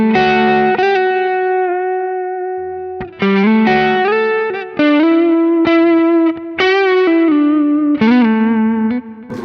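A 1981 DRV electric guitar runs through distortion, chorus and reverb effects, playing sustained chords and held notes loudly and up close, with a thick, saturated tone and short breaks between phrases.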